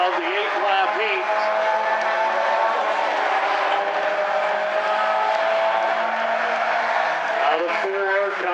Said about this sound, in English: So Brannon, having made the pass a lap ago, has not been able to shake Hoppins' car 12.